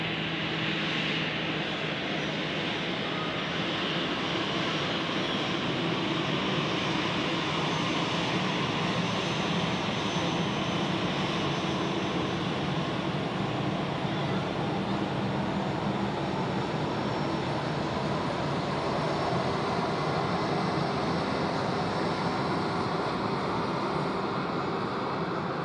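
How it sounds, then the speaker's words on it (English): An Edelweiss Airbus A320 arrives at Zurich from Split, Croatia, with a continuous, even jet engine rumble and hiss that stays at a moderate level without any break. "perfect switch here to the A320 of Edelweiss, arriving from Split in Croatia."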